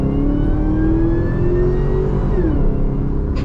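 Chevrolet Camaro ZL1, supercharged, with a Corsa catback exhaust, revving hard under acceleration, a loud continuous engine roar with a climbing whine that rises steadily, then briefly dips as it shifts near the end.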